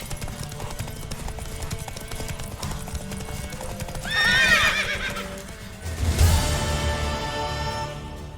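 A horse in a video game, The Witcher 3, whinnies loudly twice over steady clip-clopping hooves and a low musical backdrop, with no talking.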